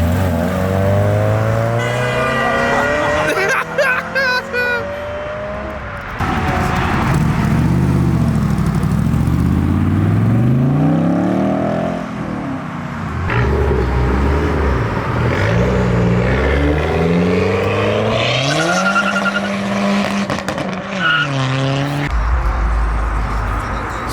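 A Ford Mustang accelerates hard and skids at a car meet, engine roaring and rising in pitch with tire squeal, loud and close amid crowd noise, ending with a deep rumble.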